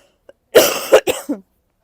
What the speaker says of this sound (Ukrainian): Це в мене кашель такий починається від е, пилу курей